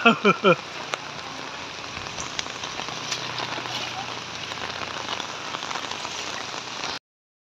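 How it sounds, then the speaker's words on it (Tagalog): Steady typhoon rain patters on a surface close by in flooded Navotas City, a dense continuous hiss after a brief burst of a few short sounds at the start. "eto umuulan na"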